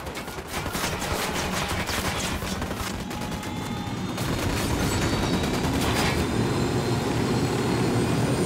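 Dense gunfire in Ghost Recon Wildlands, with rapid bursts of shots layered over a loud, continuous roar of engine-like noise that builds slightly, close and unbroken with no talk.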